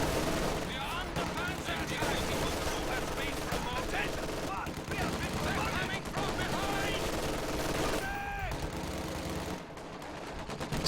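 MG42 machine gun fire in Company of Heroes 2, rapid bursts mixed with other battlefield gunfire and explosions in a dense, continuous wartime soundscape.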